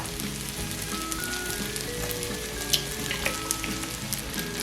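Egg frying in a little oil in the middle of a pan of stir-fried kimchi rice, giving a steady close sizzle with a few small pops and crackles throughout, no talking.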